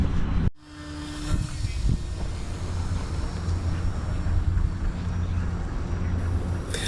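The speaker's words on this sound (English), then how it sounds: "I'm here at the park to do a flight test of my newly built Moth Mark 1." A newly built Moth Mark 1 RC biplane drones steadily through a test flight over a park, its small motor holding a continuous buzzing note from start to finish, with light wind noise and no one talking.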